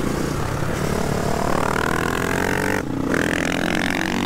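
A KTM 500 EXC-F motorcycle engine revs hard and steadily close by, its pitch climbing through the gears with a brief drop during a shift before pulling again.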